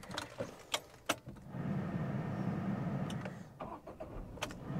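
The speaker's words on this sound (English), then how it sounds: "to start the car, I'll have to use this key" A 2024 Tata Tiago XM hatchback is started with a key: clicks and mechanical clacks from inside the car, then a low engine crank and idle hum, followed by further clicks.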